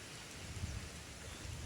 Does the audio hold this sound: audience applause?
no